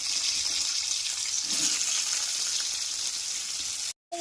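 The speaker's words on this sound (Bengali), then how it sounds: "এখানে আমি হলুদ আর লবণ দিয়ে আলুগুলোকে একটু ভাজা ভাজা করে নিচ্ছি" Potatoes fry in a pan with salt and turmeric, a steady close sizzling hiss that holds evenly throughout, briefly cutting out near the end.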